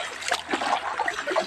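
Water splashes and trickles in a cold mountain stream outdoors, a steady close wash of rushing and splattering with no pauses.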